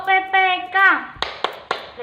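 Children chant in unison and then clap three times in a school class clap routine, the claps sharp and evenly spaced right after the chanting.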